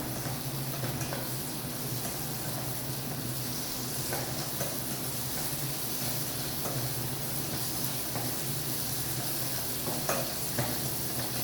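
Beans and carrot being sautéed in a pan, a constant low sizzle and hiss with faint occasional stirring scrapes, steady and unbroken.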